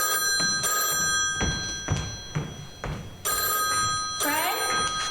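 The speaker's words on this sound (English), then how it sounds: "Telephone's ringing." A telephone bell rings repeatedly in a radio drama, loud, bright trills in several bursts with short gaps, with a few thumps and a brief voice in between.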